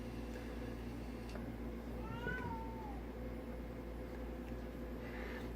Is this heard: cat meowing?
yes